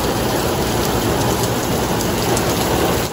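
Steady, dense rain falling in Riyadh, a loud continuous hiss with fine patter, close and unbroken for the whole stretch, with no voices.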